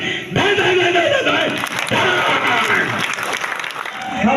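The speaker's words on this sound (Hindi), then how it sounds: "उनका तालियों से स्वागत करें" Audience clapping at a political gathering in Nawalgarh welcoming a BJP figure, a dense sustained wash of applause throughout with a voice speaking over it.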